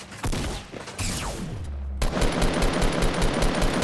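Fortnite battle royale gunfire, including shotgun blasts: a few loud separate shots, then a dense, rapid rattle of continuous automatic fire close by, with no talking.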